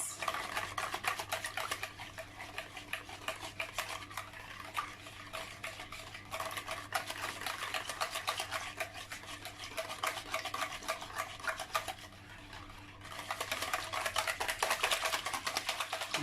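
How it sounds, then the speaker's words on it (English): Milk tart base mixture being stirred in a pot, a continuous close scraping and swishing of a utensil against the pot with a brief lull before the stirring picks up again. "Mix it well, and come out nice and smooth."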